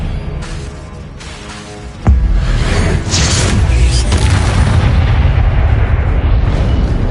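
Spells cast in combat in the video game Hogwarts Legacy, a loud game mix in which a sudden heavy boom at about two seconds gives way to a sustained roaring blast of magic effects.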